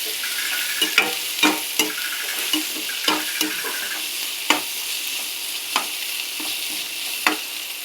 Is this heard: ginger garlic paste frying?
yes